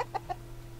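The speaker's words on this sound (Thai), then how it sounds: "เสียงไก่" A chicken from the PUBG Mobile video game gives two short, distinct clucks close together in under a second, with a steady low in-game hum running underneath.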